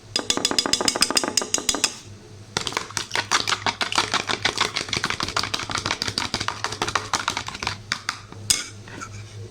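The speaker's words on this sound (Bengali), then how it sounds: "তো চলো একটু মিক্সড করে নিই।" Food mixed briskly in a pot while noodles cook, a fast, loud run of rhythmic clacking spoon strokes with a short pause partway through.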